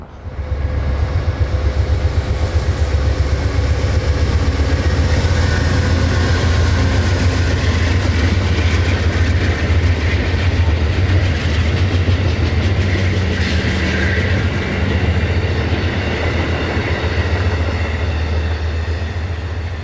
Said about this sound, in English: we have a train now and it looks to be Amtrak